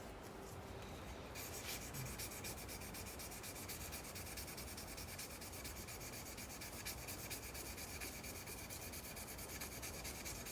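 Steady, continuous rubbing of 1000-grit sandpaper over cedar wood in a small shop, close and even in rhythm throughout with no pauses and no voices.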